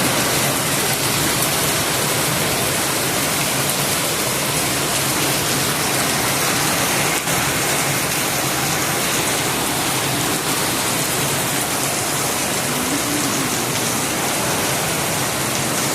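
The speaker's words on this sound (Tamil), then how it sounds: "எவ்வளோ நாள் கழிச்சு எங்கள் ஊரில் இப்போ தான் கனமழை" Heavy rain pours down steadily and loudly over a village in Tamil Nadu, a dense unbroken hiss that runs the whole time with no talking.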